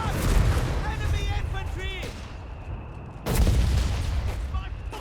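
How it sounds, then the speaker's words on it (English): Bursts of Vickers machine gun fire and battle noise in Company of Heroes 3, as British and Australian forces clash with advancing Fallschirmjaeger in the streets of Pachino, loud and dense, with a commentator talking over it. "Right into the Vickers machine gun there"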